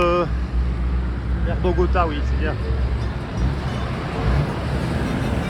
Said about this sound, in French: Allez les camions, partez tous